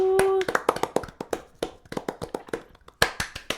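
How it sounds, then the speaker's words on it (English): Soft, scattered hand claps from podcast hosts doing a polite golf clap, a run of uneven close taps with a brief tone at the start. "We're like golf clapping and bowing"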